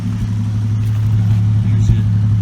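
1980 Buick Regal Turbo with a draw-through turbo, its engine idling through a side pipe exhaust, a steady low rumble heard nearby for a couple of seconds.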